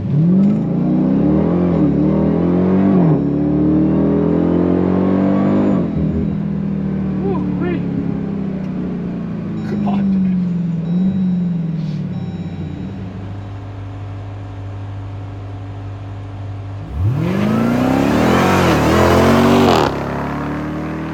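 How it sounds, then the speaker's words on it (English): A 2023 Dodge Durango SRT Hellcat launches at full throttle from a brake-held start, its supercharged engine roaring loudly through rising revs and shifts, easing off briefly, then surging again with another loud climb. "apply brake pressure, and then we will apply the throttle when we're ready"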